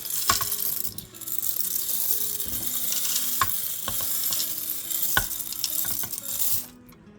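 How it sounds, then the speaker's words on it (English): A spoon scrapes and clatters against a pot while hamburger meat is stirred, with steady sizzling underneath and sharp metallic knocks at irregular intervals, close and fairly loud. "Now I'm going to go ahead and stir this around real good."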